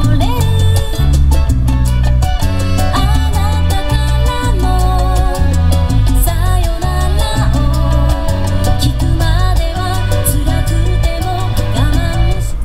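A Spanish-style song sung in Japanese plays loudly from the CD player of a 1991 Toyota Celsior C-Spec UCF11, with steady bass, rhythm and vocal melody filling the cabin throughout.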